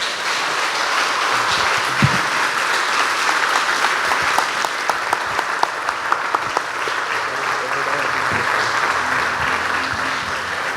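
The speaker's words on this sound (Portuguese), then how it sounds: "Dê um aplauso ao Senhor." A church congregation applauds at the close of a prayer: steady, dense clapping from a large crowd, sustained and fairly loud for the whole stretch, with some voices mixed in.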